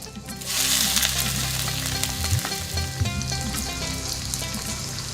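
Onion paste frying in oil in a kadai makes a loud, continuous sizzle close by. A few utensil scrapes break through, and no one speaks.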